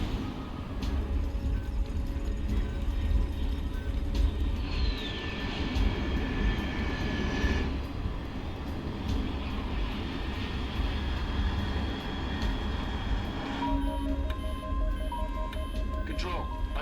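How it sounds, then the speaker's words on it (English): A jet aircraft engine from Metal Gear Solid 3 Delta roars as a steady, loud, broad rumble throughout, with a whining tone rising partway in, while a voice speaks over it. "Control, unidentified aircraft detected."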